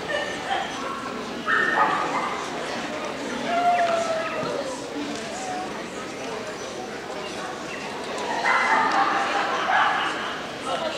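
Chihuahuas at a dog show give a few short yips and high barks over a steady crowd murmur, with people talking nearby throughout.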